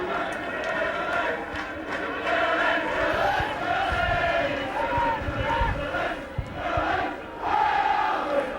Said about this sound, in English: the Leeds vocal support in the crowd very strong this evening